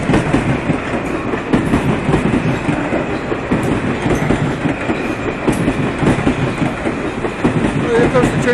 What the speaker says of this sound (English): Oh, there comes the train, dude. Hey, they're coming fast.